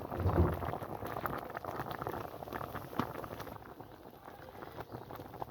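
Chicken roast bubbling in a pan with green chilies, a continuous soft simmering crackle and patter of boiling liquid at moderate volume, no voices.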